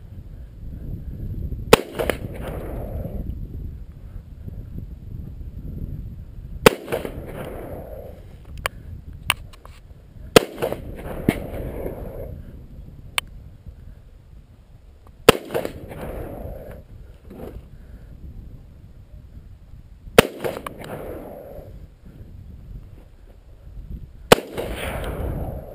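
Sharp gunshots from a .38 Special revolver fired outdoors, about six loud cracks spaced a few seconds apart over a steady low rumble of background noise.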